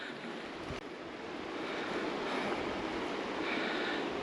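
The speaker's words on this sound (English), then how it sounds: "This is the North Umpqua River." Rushing water of the North Umpqua River in Oregon in winter, a steady broadband roar that holds continuously and grows slightly louder, with no talking.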